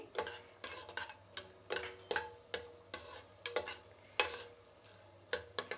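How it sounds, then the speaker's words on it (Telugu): Whole spices frying in hot oil in a pan for coconut rice, with repeated sharp scrapes and clinks of a utensil stirring against the metal in an irregular rhythm over a faint background hum. "ఈ మసాలాలు వేసినాక కూడా కొంచెం బాగా వేగాలండి, వేగితేనే ఆ స్మెల్ అనేది, ఆ అరోమా అనేది వస్తుంది"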